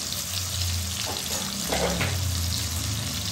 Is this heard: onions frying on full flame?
yes